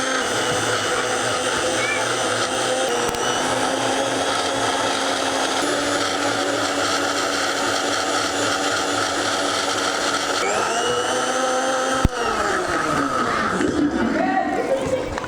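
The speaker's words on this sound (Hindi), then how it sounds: "शुगर ऐड करते ही हम लोग एक बार ब्लेंड करेंगे" An electric blender whirs steadily as it blends strawberries with sugar, a loud, continuous motor drone that shifts in pitch and texture near the end.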